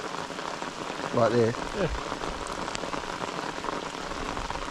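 Steady rain patters on a fishing boat and the surrounding water during a freshwater guides' barramundi trip after flooding rains, a soft even hiss under brief spoken exchanges.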